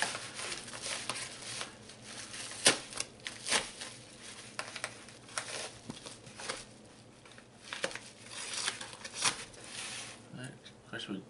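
Package being peeled open and cut while unboxing a comic, with sharp tearing, crinkling and snipping bursts scattered through the stretch, close and moderately loud.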